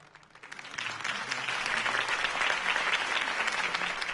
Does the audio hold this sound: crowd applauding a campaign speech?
yes